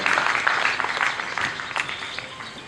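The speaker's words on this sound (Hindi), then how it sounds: "तालियां तो कम से कम अनवरत बजती रहनी चाहिए" Audience at a Teachers Day program clapping together, a fairly loud, slightly uneven patter of many hands that continues steadily with small swells.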